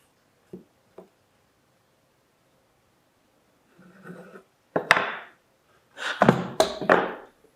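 Hammer blows nailing wooden seat boards of a squirrel picnic table feeder braced on a workbench: two light taps, then bursts of sharper knocks and handling noise, close and fairly loud with no talk.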